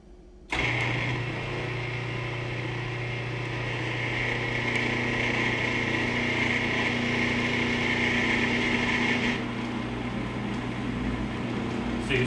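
A food processor motor runs steadily while kneading pizza dough, a continuous mid-level whir with a steady hum that holds from start to finish, with no talking.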